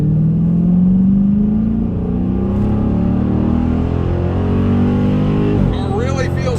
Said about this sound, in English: 2019 Scatpack. Gonna roll into the throttle so I don't spin.